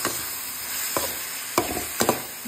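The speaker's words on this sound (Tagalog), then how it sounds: "Mekos-mekos lang guys." Garlic powder, fish sauce and chili are stirred in a hot pan under a steady sizzle, with a few distinct scraping strokes of the utensil; no one speaks.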